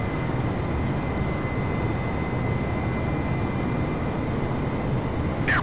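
Steady, broadband drone of an Airbus airliner's engines cruising at altitude in Microsoft Flight Simulator, a constant loud roar with a faint high whine running through it and no voices.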